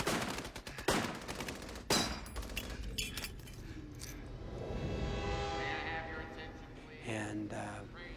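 Battle-scene gunfire from Flags of Our Fathers (2006): sharp bursts of shots and rapid fusillades crack out, with blasts and a rumbling swell between them, under and alongside voices.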